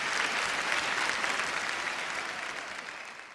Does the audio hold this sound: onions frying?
no